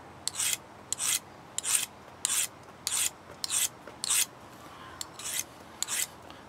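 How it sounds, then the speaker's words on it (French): A knife drawn again and again along a sharpening rod, about ten evenly spaced, bright rasping strokes, each brief and close, with quiet gaps between and no voices. "mon couteau passe de la même façon sur"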